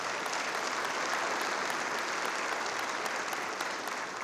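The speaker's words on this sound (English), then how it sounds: "Let's give them a round of applause." Steady, even applause from a crowd at a chamber of commerce community event, a continuous wash of clapping heard at moderate distance without speech.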